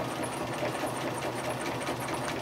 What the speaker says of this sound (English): after I begin to stitch, I want to remember to back stitch and then keep a straight line with the 3rd line over, sewing down